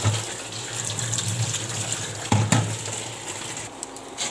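Tap water runs steadily over dried ichi shrimp being washed in a kitchen sink, a continuous close splashing flow with a couple of brief heavier gushes midway.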